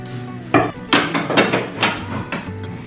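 Small steel katori bowls being taken out and set down on a kitchen counter during an Indian dinner routine, giving several sharp metallic clinks and knocks spaced over a few seconds, close and fairly loud.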